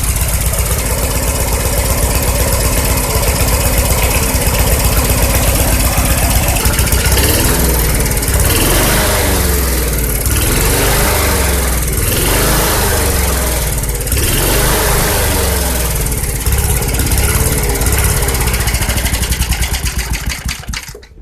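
A vintage Sears 131.91280 lawnmower with a Briggs & Stratton 92908 small engine runs loud and close, a steady rapid putter that surges and dips in rhythmic waves of revving, then cuts off at the very end.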